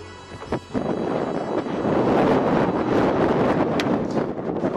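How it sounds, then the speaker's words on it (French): Strong outdoor wind buffets the microphone beside a Nissan GT-R, a loud continuous roar that swells and gusts throughout with a few brief knocks near the start and no speech. "Pas mal de vent aujourd'hui"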